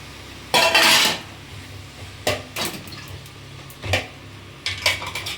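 Ginger paste is stirred in a cooking pan, with a spoon scraping and clanking against the metal in short, uneven bursts separated by brief pauses, close and fairly loud.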